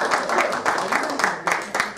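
A small audience at a BNI business networking chapter meeting claps in a steady, rhythmic beat, close and fairly loud, with voices talking over the applause.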